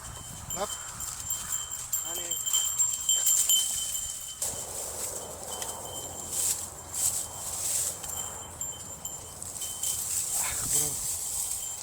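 Hunting dogs bark and yelp intermittently during a woodcock hunt among people talking outdoors, with hoofbeat-like thuds and movement noises in the background.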